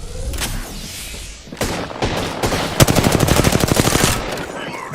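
Video game gunfire, a few scattered shots followed by a steady rapid automatic burst of about a dozen rounds, loud and close, with no talk over it.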